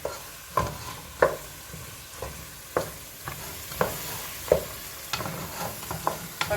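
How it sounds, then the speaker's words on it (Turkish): Tomato and pepper paste sizzles in a pot for chickpea stew while a spoon stirs it, sharp scraping knocks recurring about once a second over a soft frying hiss. "bir kaşık dolusu biber salçası. Onları da koyduk içine."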